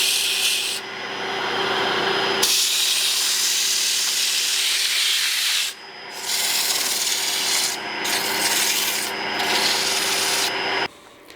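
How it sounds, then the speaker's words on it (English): Sandpaper rubs steadily against a wooden barber's pole spinning on a wood lathe, a loud continuous hiss with brief breaks and shifts in pressure, close and without speech. "I've been through the grits now on this piece, and it's pretty well sanded down"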